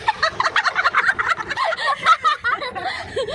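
Ducks splashing about in a flooded spot used like a swimming pool under a bridge, giving rapid, busy honking calls that come close and fairly loud, layered and continuous, with no talk over them.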